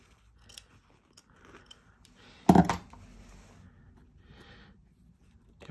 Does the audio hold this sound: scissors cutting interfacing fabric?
yes